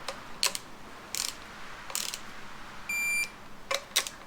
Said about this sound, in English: Okay, so we're just going to run through and torque everything.